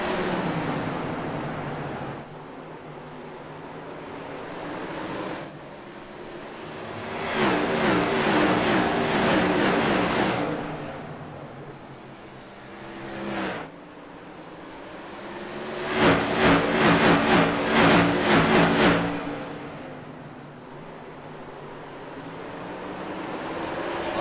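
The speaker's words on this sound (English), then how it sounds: "Those cars going past the back straightaway there." Race cars at a short track roar past on the back straightaway in two distinct swells, each rising and fading over a few seconds, heard from a moderate distance over a low background hum.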